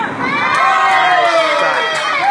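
Crowd at a tenpin bowling championship doubles medal round cheering and shouting loudly and continuously from nearby, with excited high voices swelling over the whole stretch.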